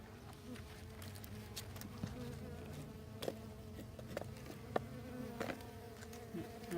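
Honey bees drone steadily at an open beehive while a beekeeper works the frames, a close, continuous layered buzz with occasional sharper clicks and knocks from handling.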